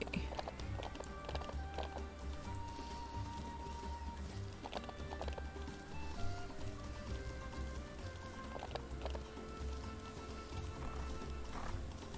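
Quick, rhythmic hoofbeats of horses galloping in a ranch video game, steady and fairly close, played over soft background music.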